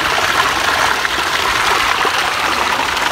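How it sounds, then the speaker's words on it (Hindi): Water rushes steadily down a waterfall stream in Shah Allah Ditta Valley near Islamabad, a loud, continuous, close hiss of flowing water with no voices. "पानी आ रहा है"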